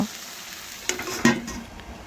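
Pumpkin cooks in a pan with added water while a spatula stirs it. A soft sizzle runs throughout, and two sharper scrapes stand out near the middle, close and fairly quiet.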